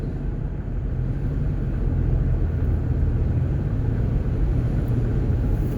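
A 2007 Dodge Caravan minivan with worn-out struts drives along, a constant loud low road rumble and engine drone filling the cabin with no distinct knocks standing out.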